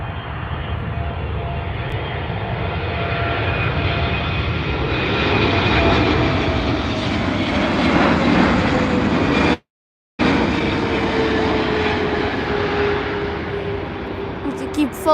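Airplane landing at an airport on a sunny day, a roughly handled touchdown, its engines roaring loud and steady for the whole stretch with a brief cutout, heard outdoors with spotter chatter over it.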